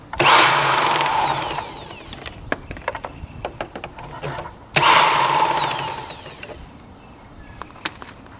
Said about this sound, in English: there's two 10mm bolts. I'm just gonna go ahead, take these out.